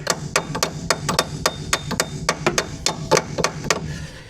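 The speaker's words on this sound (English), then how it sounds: "we'll take the hammer" A hammer taps a part into place on a Buick Skylark, about a dozen sharp metallic knocks in an uneven, quick rhythm, close and clear over a faint background hum.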